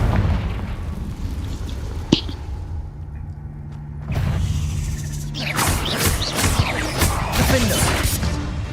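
A Confringo blasting-spell explosion from Hogwarts Legacy, a loud boom that breaks into crackling, bursting debris and lingering rumble after a quieter stretch of combat sounds.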